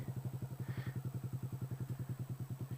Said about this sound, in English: Did you guys hear the bike start dying and it started moving?